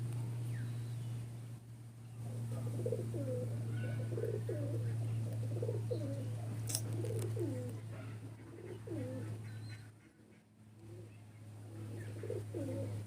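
Repeated soft coos from a female Pulsar-breed racing pigeon roll along in a steady series, close by, over a low steady hum with faint background chirps.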